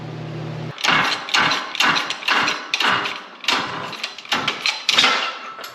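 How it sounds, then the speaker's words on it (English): A press forcing a small gear off a shaft during a gear reduction rebuild on a Polaris RZR Pro XP, a series of sharp metallic clanks and thuds in an uneven rhythm, close and loud, with no speech. "it's too big for those little gears, so we're gonna press this one out."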